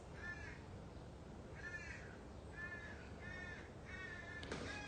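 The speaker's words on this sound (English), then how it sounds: "I think that's a crow or a squirrel in the back" Crow caws outdoors in the background, about five harsh calls spaced through the stretch, fairly faint but distinct over steady room noise while beads are worked at a table indoors.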